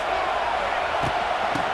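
Stadium crowd noise in the NCAA 26 college football video game, a dense, continuous roar of many voices with a couple of faint thumps, steady and fairly loud throughout.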